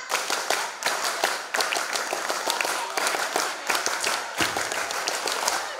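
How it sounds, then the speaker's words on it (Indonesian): A school group performs the scout rhythmic clap (tepuk pramuka) twice through: crisp, loud unison hand claps in a repeating pattern with short gaps between phrases, a crowd audible underneath. "Dua kali tepuk pramuka."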